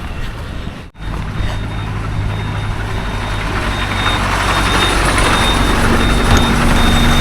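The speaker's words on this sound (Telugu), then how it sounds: "లారీ ఆగింది చాలా టైం తర్వాత." A lorry pulls up on a highway and sits idling, its deep engine rumble growing steadily louder and closer, with faint tonal beeps or whines layered over it and no talk.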